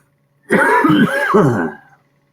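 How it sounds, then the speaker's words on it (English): A person coughs and clears their throat in a single harsh fit of about a second and a half, close and loud, with the hacking breaking into three or four rough bursts before trailing off. "Watch me cough my butt off."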